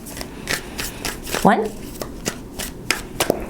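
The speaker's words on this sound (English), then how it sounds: "2 more shuffles, 8-card spread" A tarot deck is shuffled by hand, giving a string of quick, crisp card riffles and slaps at a steady rhythm, close and clear, while a person speaks briefly.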